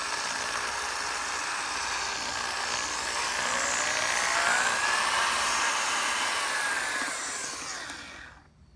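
Drill spinning a Spinitoff magnetic black sand separator, a steady broadband whirring drone with faint shifting tonal whines, constant and near, then tapering off at the end.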